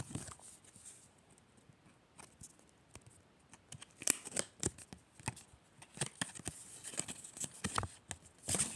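Pack of football trading cards being torn open and handled, with soft crinkling, tearing and card-shuffling rustles at close range, quiet and irregular, without speech.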